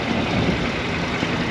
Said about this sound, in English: Yep, this one's idling as well.